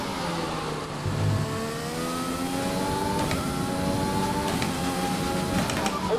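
Formula 1 car engine in F1 2020 racing game at the Russian Grand Prix, a steady high-pitched whine with rising and falling pitch sweeps as the car runs a lap, continuous and fairly loud with no talk.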